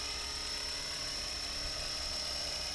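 A KDS radio-controlled helicopter hovers with its rotor and engine on throttle, a loud continuous whine with a steady high pitch and a constant drone, heard alone without talk.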